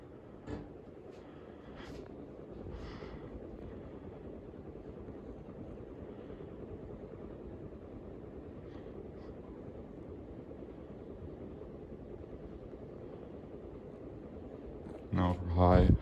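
A Home Decorators Collection Ashby Park 44-inch ceiling fan runs on medium, giving a soft steady whoosh of moving air with faint microphone wind buffeting, with someone talking over it.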